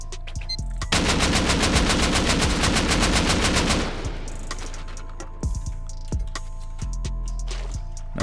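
Loud, rapid automatic gunfire fills the scene in a base-raiding video game, a dense stream of shots lasting about three seconds. Scattered single cracks and impacts follow as it fades.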